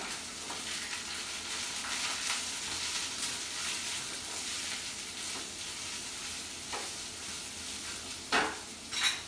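Sliced capsicum and spring onion sauté in a pan for chilli potato, a steady moderate sizzle with faint stirring scrapes and a couple of louder utensil clinks near the end.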